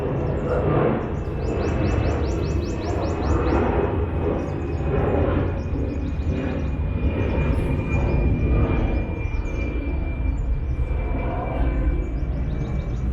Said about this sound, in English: So we'll start the song just after that airplane passes.